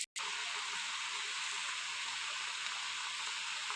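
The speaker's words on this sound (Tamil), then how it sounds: "வெந்தயம், சீரகம், வரமிளகா இதை போட்டு வறுத்துக்கணும் ஃப்ரெண்ட்ஸ்" Fenugreek seeds, cumin and dried red chilies dry-roasting in a pan, giving a steady, close hiss and faint sizzle that runs evenly throughout after a brief silent gap at the start.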